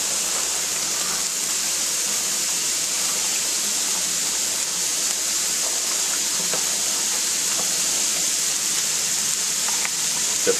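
An onion mixture sizzles steadily in a pan while making Greek pastitsio, giving a continuous, even hiss that stays close and moderately loud throughout, with no voices.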